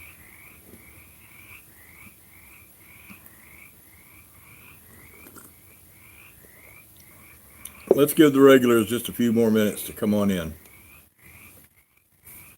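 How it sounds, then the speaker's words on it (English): Frogs croaking steadily near a farm, a chorus of rhythmic repeated calls running through the whole stretch, briefly drowned out midway by a person talking close by. "Yeah, those frogs are noisy."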